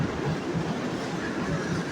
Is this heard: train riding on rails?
yes